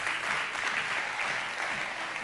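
A church congregation applauds, steady dense clapping from a crowd heard throughout at an even level, with no voices.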